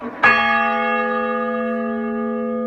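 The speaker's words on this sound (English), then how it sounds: "So the toll is just a single strike on the bell." A single loud strike on a church tower bell, made by a ball and hammer, rings out, then its deep, resonant tone hums and slowly fades, sustained and alone.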